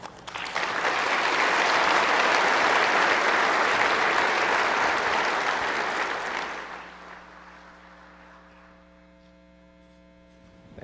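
Sustained audience applause welcoming energy executive Jim Mulva at a lecture, a steady roar of clapping that fades out after about seven seconds, leaving a faint electrical mains hum.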